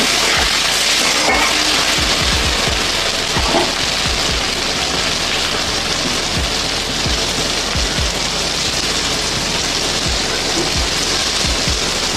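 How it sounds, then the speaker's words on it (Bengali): Tomato frying in a pan with turmeric and salt gives a steady, close, dense sizzle with soft stirring knocks and scrapes throughout, and no voices. "হলুদ দিয়ে দিলাম টমেটোটা আবার কষিয়ে নেব লবণ হলুদের সঙ্গে"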